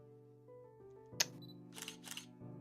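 A camera shutter set to a slow speed in a video game, sharp mechanical clicks followed by two soft whirring bursts, heard over a quiet sustained musical drone.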